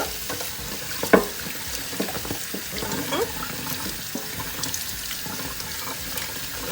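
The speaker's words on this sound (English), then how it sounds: "we are gonna rinse our turkey off" Tap water runs into a sink while a whole turkey is rinsed, a steady splashing hiss broken by irregular handling knocks and water spatters, close and moderately quiet.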